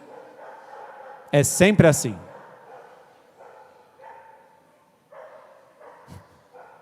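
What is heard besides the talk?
dogs barking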